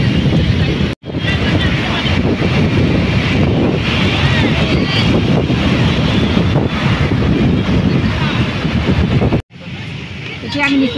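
Sea waves and wind on a beach make a loud, steady roar of surf and gusting air against the microphone, with two brief dropouts.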